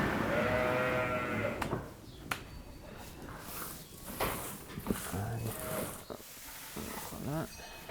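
Sheep bleat repeatedly outdoors, several calls near and far over a rustling background, with a voice speaking briefly among them.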